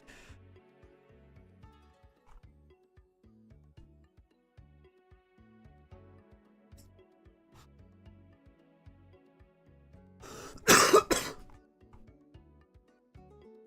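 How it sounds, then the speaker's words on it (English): A single heavy, harsh cough bursts out loudly against a quiet background with faint music, then fades back to near silence. "That was a heavy cough."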